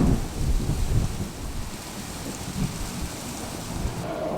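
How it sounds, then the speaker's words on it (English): Steady heavy rain hisses throughout while low rumbles of thunder roll in the background, with no voices present, during a Wyoming storm. "the storm is just about hitting us now"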